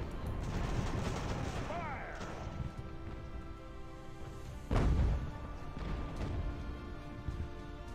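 A loud booming blast of cannon fire erupts midway in the naval game Ultimate Admiral: Age of Sail, with whistles, distant thuds, and a rumbling battlefield background.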